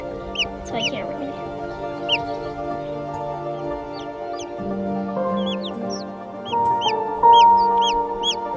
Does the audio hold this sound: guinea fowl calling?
yes